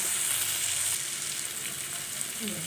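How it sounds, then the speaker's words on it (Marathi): Green peas are sautéed and stirred in oil, making a close, steady sizzle with a soft frying hiss that runs evenly throughout, with no speech. "हे बघा अशा पद्धतीने मिक्स करून घ्यायचं आहे परतून घ्यायचं छान तेलामध्ये"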